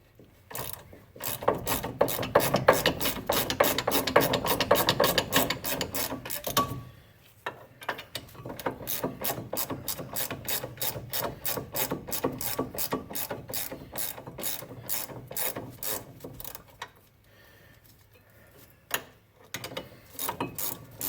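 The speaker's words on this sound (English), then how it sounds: "got the 1/2 inch drive out with the longer ratchet. Let me break them free." Long 1/2 inch drive ratchet breaking free and backing out front brake caliper bolts on a Toyota Matrix, its pawl clicking in rapid, steady runs of ratchet strokes with brief pauses between bursts, close and clear with no talking.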